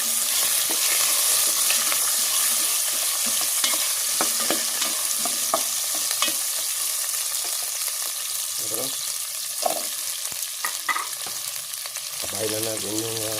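Okra dropped into a pot of shrimp sinigang sets off loud, steady frying and bubbling with stirring knocks, and a brief voice is heard near the end.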